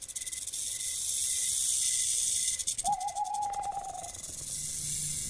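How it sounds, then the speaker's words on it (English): Snake hissing in the video game Shadows Peak: a steady airy hiss runs through most of the stretch, joined midway by a brief tonal whine, with no talk over it. "Whoa! I hear a snake."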